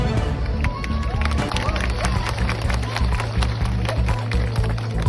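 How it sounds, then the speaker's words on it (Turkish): Dense, sustained crowd applause at a Tozanlı Birlik Platformu community gathering: many hands clapping together in a loud, continuous wash over a steady low hum, with a voice speaking over it. "Alkışlar öyle güçlü yapalım ki"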